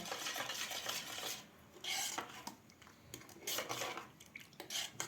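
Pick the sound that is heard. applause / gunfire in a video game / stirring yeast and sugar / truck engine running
stirring yeast and sugar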